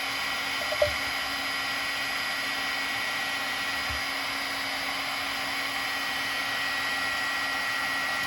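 A hair dryer blows steadily on a watercolor painting to dry it, a loud, even whir throughout with a tiny click near the start and no talking.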